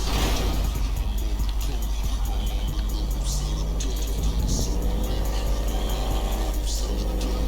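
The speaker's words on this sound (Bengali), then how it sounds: "দেখো গাইস আমরা এখানে কীভাবে কারটা রাইড করে যাই।" A car in GTA 5 drives with a loud, steady engine hum and road rumble, tire and mechanical noises rising and falling slightly, with game sounds layered on top.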